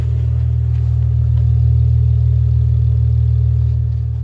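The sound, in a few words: Jeep Wrangler loud exhaust while driving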